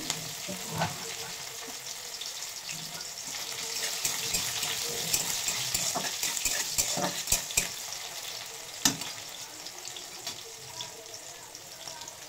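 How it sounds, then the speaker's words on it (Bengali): Chopped onions and whole cumin seeds fry in hot oil, giving a steady, moderately quiet sizzle. Occasional sharp clicks of a spoon against the pan break through it. "পেঁয়াজটা একটু লাল লাল করে ভেজে নেবো"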